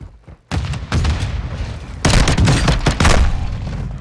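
Loud Call of Duty: Modern Warfare II gunfire erupts after a brief quiet start: heavy close shots and bursts with booming impacts, several separate volleys over a few seconds, with no talk over them.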